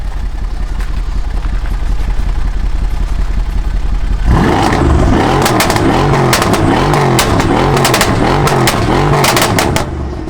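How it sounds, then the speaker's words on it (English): A Mercedes CLS 63 AMG S engine idles with a deep rumble, then revs hard several times, the exhaust roaring and popping loudly up close. "Let me just show you guys the exhaust."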